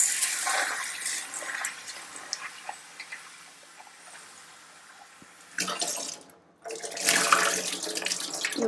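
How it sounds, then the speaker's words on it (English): Rice flakes and sago are washed in water in a kitchen for thatte idli, with splashing, swishing and running-water sounds in bursts, a quieter stretch in the middle and a loud final rush. "Now we'll take the rice flakes and the sago together and wash it nicely."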